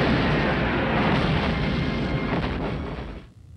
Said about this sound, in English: You sure write good explosions.